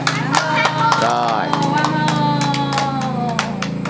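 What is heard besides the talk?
audience applause at a birthday party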